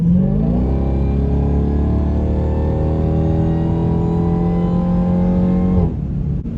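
A 2023 Dodge Demon 170 accelerating hard, its engine droning steadily and climbing in pitch for several seconds, loud and close, before easing off abruptly at the end.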